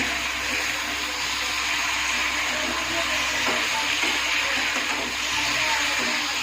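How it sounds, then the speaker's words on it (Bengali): Potatoes frying with green chillies in a pan on a home kitchen stove, a loud continuous broad hiss of sizzling oil that holds steady with little variation from start to finish. "তো লঙ্কা দিয়ে আলু ভাজছি।"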